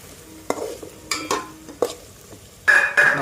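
Biryani masala frying and being stirred in a rice cooker, with a steady soft sizzle broken by several sharp scraping stirs of a utensil against the pot, close and clear, no talking.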